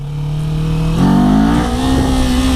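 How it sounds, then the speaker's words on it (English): A Kawasaki Z400 motorcycle engine revs hard in first gear for a power wheelie, its loud close tone climbing in pitch as the throttle opens. "Let's see if I can wheelie this in first gear, just power wheelie."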